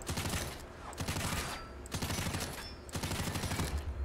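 Modded assault rifle firing in Fallout 4, loud sustained bursts of rapid automatic gunfire in three or four long volleys separated by brief pauses.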